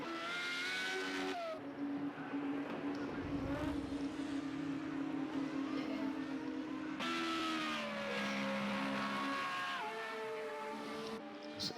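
Formula Renault race cars in a racing video game pull out of pit lane at Brno for qualifying, engines droning steadily with rising and shifting pitch, several cars overlapping in a continuous loud whine.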